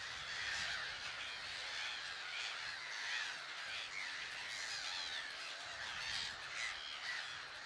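A dense colony of gulls and cormorants calls continuously, overlapping squawks and harsh cries from many birds at once, rising and falling without pause.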